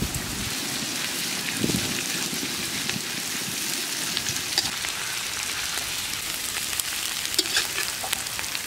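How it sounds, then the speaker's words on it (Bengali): Chopped onions and onion paste fry in a pan in a village kitchen, a continuous loud sizzle and crackle with occasional stirring clinks, no voices. "পেঁয়াজগুলো ভাজা হয়ে গেছে"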